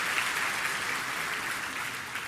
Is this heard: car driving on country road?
no